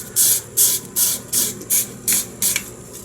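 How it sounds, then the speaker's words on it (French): A hot soldering iron tip wiped on a water-soaked sponge while soldering copper wire, giving seven sharp, evenly spaced hissing sizzles, loud and close with no talk. "ce à quoi mon éponge va me servir, c'est tout simplement à nettoyer l'embout de mon fer à souder"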